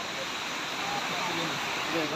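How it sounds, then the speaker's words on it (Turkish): Waterfall at Harbiye in Hatay, a steady broadband rush of falling water that holds evenly throughout and fills the scene without pause. "Bak burada ne güzel şelale."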